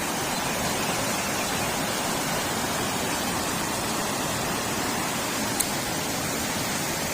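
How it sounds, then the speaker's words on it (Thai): Strong, steady roar of water rushing over an overflowing weir on the Samrong–Chom Phrai route, a dense continuous wash that stays loud and unbroken throughout with no voices. "ห้ามลงเล่นน้ำโดยเด็ดขาดครับ น้ำไหลแรงครับ"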